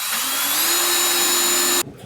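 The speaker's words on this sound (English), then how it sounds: "pre-drill hole" A power drill whines steadily at high speed for nearly two seconds pre-drilling a pilot hole for a door latch, then cuts off abruptly, close and loud.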